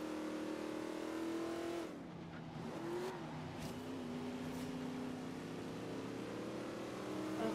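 Car engine revving during a Forza Horizon 3 race, a loud steady harmonic drone that drops in pitch at a gear change, then climbs and holds under faint background effects, with brief clicks and bumps along the way.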